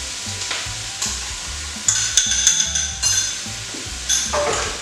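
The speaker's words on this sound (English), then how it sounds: "the fresh chilli's going in. We'll stir around." Vegetarian chilli with fresh chilli stirred in a pan: a loud, close sizzle runs under repeated scraping and clinking of a utensil against the pan, in irregular strokes.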